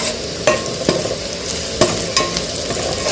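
Onions fry in a pan with a constant hiss, broken by several sharp clanks and scrapes as a spoon stirs them, close and clear with no voices.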